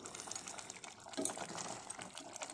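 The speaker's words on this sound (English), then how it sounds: "I am adding little bit of extra water to cook the chicken" Extra water being added to country-style chicken gravy in a pot while cooking, a soft steady pouring and trickling with a brief louder splash midway, no talking.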